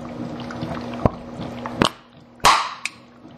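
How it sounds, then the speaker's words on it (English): A benchtop HHO generator spews water in several sharp sputtering bursts, spaced irregularly over a steady low electrical hum, with the last burst the loudest and followed by a fading hiss. "Oh, spewed water everywhere."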